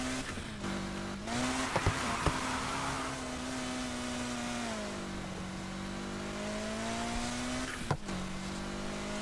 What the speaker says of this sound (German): Muss ich gerade mal noch ein bisschen mehr Gas geben